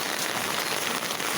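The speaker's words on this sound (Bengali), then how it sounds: "দেখছেন এখনও বৃষ্টি হইতেছে" Rain falls steadily outdoors near pigeon coops, a dense, even patter of drops with no other sounds standing out.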